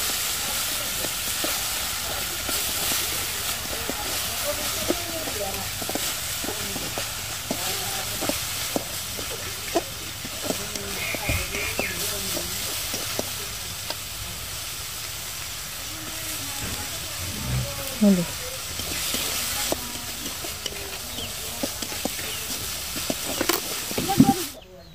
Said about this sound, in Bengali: কড়াই বসিয়ে আমি অল্প করে তেল দিয়েছি আর হচ্ছে রসুন কুচি দিয়েছি এখন আমি দিয়ে দেব পেঁয়াজ কুচি